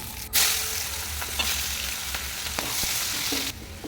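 Steady sizzling of onions frying in hot oil, a continuous crackling hiss with a few brief clinks and scrapes of stirring.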